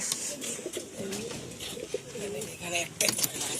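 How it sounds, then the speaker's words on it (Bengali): Racer pigeons coo in soft, repeated throaty rolls close by, mixed with light clinking and background noise while someone talks over them. "এই যে এটাও রেসারই পায়রা দেখুন"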